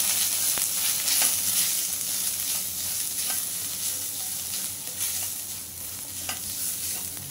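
Turmeric, coriander powder, roasted cumin and Kashmiri chili masala sizzle steadily in a frying pan for wild vegetable kachori, with the close scrape of a spoon stirring now and then, and no voices.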